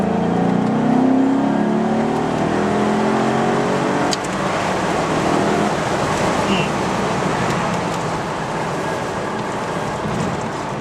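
A 2004 Maserati Cambiocorsa Spyder engine revs up in a rising pull, then the note drops after a gearshift into steady road and tyre noise, with someone talking over it.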